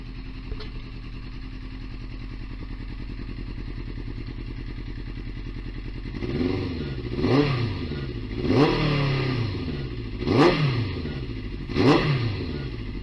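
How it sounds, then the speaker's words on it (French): A motorcycle being put back into service after restoration idles up, then its engine is blipped in four distinct revs that rise and fall, loud and close, with no talk over it. "Et voilà, le moteur est parti."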